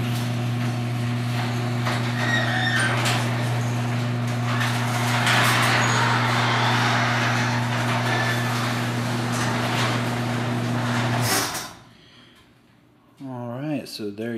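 Garage door opener motor hums steadily as it raises a garage door, a constant drone with rattling for about eleven seconds, then it stops abruptly and the space falls quiet before faint sounds return.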